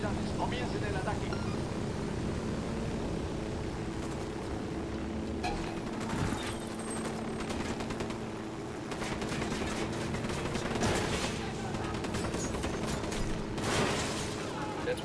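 Gunfire in the video game Ghost Recon Wildlands, dense loud shooting and mechanical noise running continuously, with voices talking over the fight.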